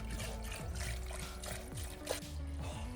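Liquid pouring and trickling onto a garage floor in sub-zero cold during a 1968 Chevy Camaro respray, a steady close splashing flow amid a hum of background noise, with no talking.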